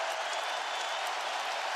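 Basketball arena crowd applauding steadily during a Celtics vs Cavaliers playoff game after an offensive rebound, a dense, even wash of clapping and cheering with no pauses.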